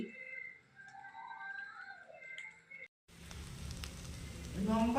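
Ghee drizzled over fried rice made from leftover rice, hissing as it hits the hot pan: a faint, steady sizzle that starts after a brief pause and grows louder toward the end, with background hum earlier.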